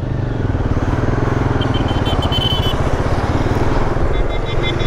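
Royal Enfield Himalayan 450 and Triumph Tiger 800 motorcycles on a short ride, a loud continuous engine drone with steady throbbing pulses and wind, recorded close from the bike.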